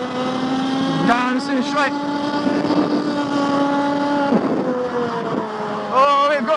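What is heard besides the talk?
kart with IAME Parilla engine accelerating on track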